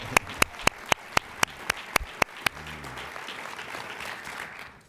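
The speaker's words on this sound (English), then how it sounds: "join me in giving Jane a big round of applause" Applause from an awards banquet audience, opening with several loud, evenly spaced claps up close before fading into a steady wash of many hands clapping across the room, then tailing off.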